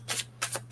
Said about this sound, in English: gonna shuffle 3 times and split